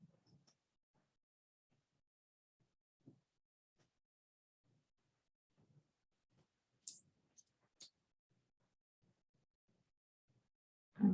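Mouse clicks at a computer during a tutorial on a controlled three-phase half-wave rectifier, a handful of faint, sparse, isolated taps in near silence, with a louder burst right at the end.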